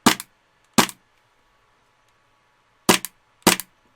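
A green gas airsoft pistol fitted with a suppressor fires four sharp, close pops: two quick shots, a pause of about two seconds, then two more.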